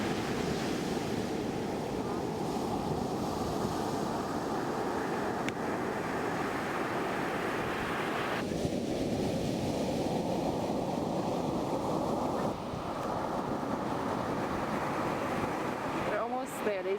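Steady ocean surf washes onto a beach in Mexico at sunset, a continuous broad roar of breaking waves with gusty wind buffeting the microphone throughout.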